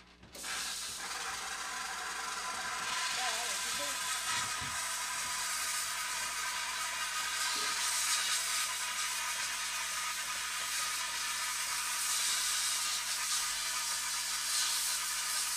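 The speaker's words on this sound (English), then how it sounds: "Let me steam clean this off, and you can see the solder joint better." A steam cleaner blasts a soldered dental wire appliance, a Hawley retainer with C clasps, making a loud, steady, broadband hiss that runs unbroken for about fifteen seconds, close and alone.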